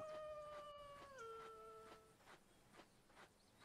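A wolf howls in the Trials of Wilderness survival game, a long sustained wail that bends downward partway through, fairly loud over a faint wilderness ambience with no talk.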